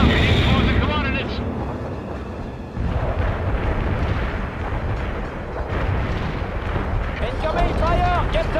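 Artillery fire in the video game World in Conflict, heavy booming blasts and rumbling explosions across the battlefield, with shouted voices over the bombardment.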